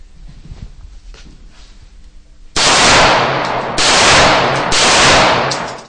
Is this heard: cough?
no